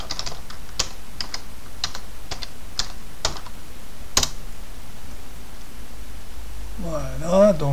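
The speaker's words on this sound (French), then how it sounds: "Je vais arriver à me taper mon mot de passe" A password typed on a computer keyboard during a Fedora Linux 21 alpha login, sparse distinct key clicks spaced irregularly over steady background hiss, ending with a brief warbling tone.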